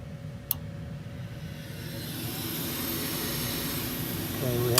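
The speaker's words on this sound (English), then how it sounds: "Okay, we have induced draft." The induced draft fan of an old ICP gas furnace starts up after a sharp click, its whir building steadily louder over a few seconds, with a person talking nearby.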